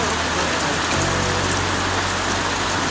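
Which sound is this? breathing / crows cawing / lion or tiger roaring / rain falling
rain falling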